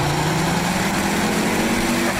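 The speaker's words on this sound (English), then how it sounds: "One of my favourite parts of this car is the sound of the engine." A Ford Focus RS engine runs steadily close by, a loud continuous hum with a low droning tone that cuts off abruptly at the end.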